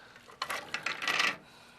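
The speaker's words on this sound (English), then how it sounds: "And in go the potatoes." Cut potatoes drop into a soup pot in a quick run of clattering splashes and knocks lasting about a second, close and fairly loud, with quiet before and after.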